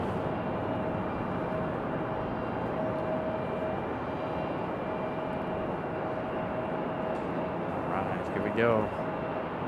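A Frontier airliner taxis at Raleigh-Durham airport, its steady broadband engine roar filling the scene throughout, with a brief rising whine near the end and a person talking briefly over it.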